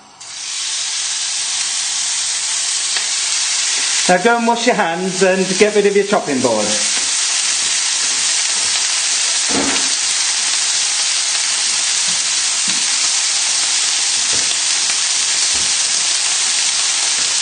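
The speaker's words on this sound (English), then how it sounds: "Oil in the pan, and then pop in the lamb." Pieces of lamb sizzle loudly in hot oil in a pan, a steady close hiss running throughout, briefly joined by someone speaking near the start.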